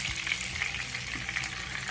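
Used stew oil, the leftover oil from cooking stew, sizzles steadily in a pot on the stove, a constant close crackling hiss with no pauses.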